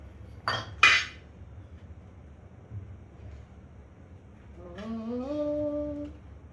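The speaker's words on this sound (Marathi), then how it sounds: "आता ह्याला मस्त शेप मध्ये असं कट करून घेऊयात" A steel bowl knocks twice against a board while cutting wheat-flour momo dough into shape, followed by a faint scrape, then a rising tonal whistle-like sound near the end.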